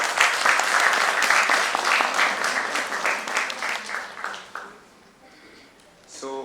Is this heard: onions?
no